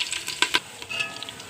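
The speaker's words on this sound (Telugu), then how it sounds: "ఇవి ముందు తాలింపుకి వెల్లుల్లిపాయ వేసాను. ఇవి వేగినాయి కదా" Garlic and tempering spices fry in hot oil inside a pressure cooker, making a close sizzle broken by a few sharp stirring scrapes and pops.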